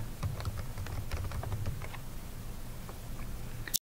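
A label being typed on a computer keyboard, a quick run of close, light key clicks that patter steadily for several seconds, then a brief break at the end.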